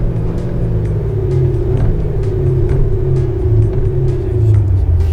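A car engine with a switchable three-stage exhaust system runs loud and steady, a deep low rumble with slight swells of revving throughout, close by with no one talking.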